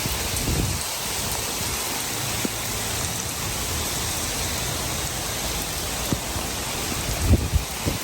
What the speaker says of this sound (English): caught up in the rain all of a sudden.